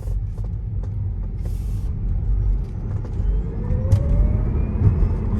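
A used Tesla Model S 70D AWD electric car on the road, heard from inside as a steady low rumble of tyres and road noise with no engine sound, holding an even level throughout.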